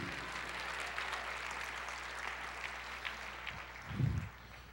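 A church congregation claps in steady, dense applause, a broad wash of many hands heard fairly close, with a brief low thump near the end.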